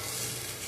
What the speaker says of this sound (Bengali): আরেকটা কড়াতে আমি এদিকে কয়েকটা বড়ি, বিউলি ডালের বড়ি আমি ভেজে নিচ্ছি